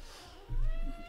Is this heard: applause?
no